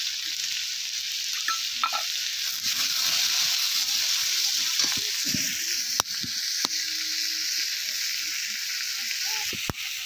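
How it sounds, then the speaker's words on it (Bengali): Potato and papaya pieces are stirred and sautéed in a pan: a steady frying hiss sits under scattered scrapes and clicks of a utensil, with a few sharper knocks near the middle and end. "তো আলু আর পেঁপেটা দিয়ে আমি একটু নাড়াচাড়া করে নিচ্ছি"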